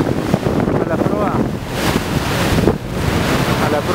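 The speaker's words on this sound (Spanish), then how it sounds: "Así están golpeando las olas" Waves slapping against the bow of a ferry headed to Galveston, a steady rushing wash with surging splashes, mixed with heavy wind buffeting the microphone at the front deck.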